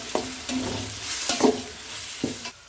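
Tomatoes sauté with onions in a pan for chicken biryani, a steady frying sizzle broken by a few sharp scrapes and taps of a spoon stirring against the pan, close by.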